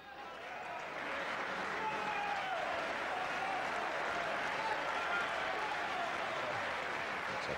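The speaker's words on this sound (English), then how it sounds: "Typically enthusiastic and highly partisan Wembley crowd" A large, enthusiastic and partisan Wembley crowd at a snooker Masters quarter-final applauds and cheers in a dense, sustained roar that swells within the first second and holds steady, with voices mixed into the noise.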